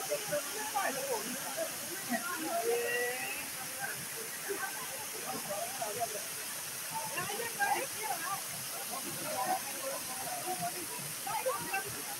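A three-stream waterfall at Naubise heard as a steady, faint hiss of falling water, with scattered voices talking over it.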